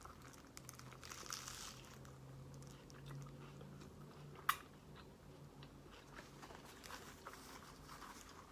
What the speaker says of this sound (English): I'm just gonna take a bite